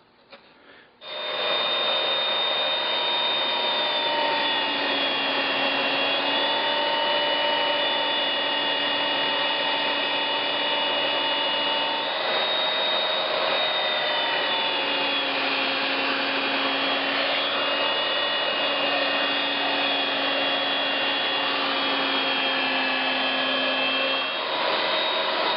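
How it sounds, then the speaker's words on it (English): A belt sander grinds bandsaw marks off a wooden bodysurfing handplane and rounds its nose, giving a loud, steady whir that runs on unbroken for about twenty-five seconds with small shifts in tone. "Now on the belt sander, we're going to use it to take off any of the bandsaw marks, and then we're also going to use it to round out the nose."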